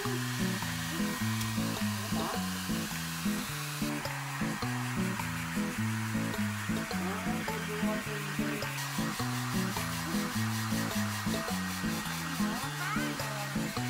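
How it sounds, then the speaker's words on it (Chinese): Hair dryer blowing steadily on a Shiba Inu dog after its first bath at home, a continuous close whirring roar with rustling as the fur is handled, running throughout without pause. "吹干"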